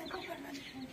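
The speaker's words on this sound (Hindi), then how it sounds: "ये हमारी मुर्गी है" A hen clucking softly among grass beside her chicks, faint low clucks mixed with quiet bird calls and a voice talking nearby.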